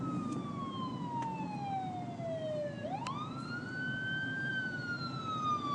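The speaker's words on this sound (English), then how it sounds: "Yep, loud siren just right there" A loud emergency siren wails nearby, sweeping down in pitch, then rising sharply and holding a long steady tone over a low rumble of road and engine noise, with no talk.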